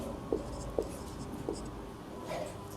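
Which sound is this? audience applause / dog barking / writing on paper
writing on paper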